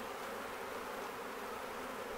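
A honey bee swarm buzzes steadily and densely in a park, a continuous close drone with no pauses and no voices over it.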